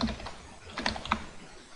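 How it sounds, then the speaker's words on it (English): Someone types on a computer keyboard while working on a C# email sender program: a short, fairly quiet run of uneven key clicks with a few sharper taps, no speech. "I just type in something random and click send email"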